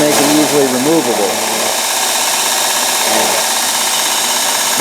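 A Craftsman belt sander, repowered with a new motor, runs with a loud, continuous whine and roar that wavers briefly at the start and then holds steady at close range.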